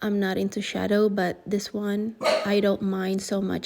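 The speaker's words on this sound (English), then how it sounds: "that's my dog, yes" A dog barks and whimpers in short bursts at a home during a beauty try-on, partly masked by someone talking continuously over it.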